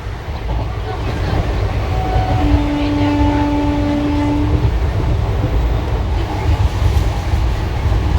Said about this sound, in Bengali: আমাদের ট্রেন এইমাত্র নিউ ফারাক্কা জংশন ছেড়ে বেরিয়ে গেল